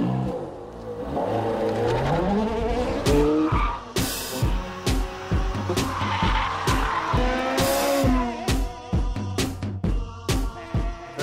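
A Ferrari 430 Scuderia on a race track, its engine revving hard and climbing through gears with sharp shifts, tires squealing and skidding through corners, loud and close throughout.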